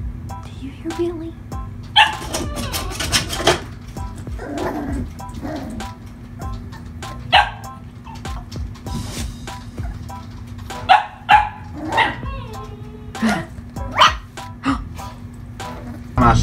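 A pug barks and yips in irregular bursts, close and loud, with whimpers between, while people talk nearby inside a lived-in RV.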